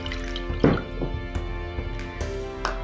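Water trickles and drips into a container holding vinegar for pickling brine for onions, soft splashes and drips close by in an irregular sequence against a faint background hum.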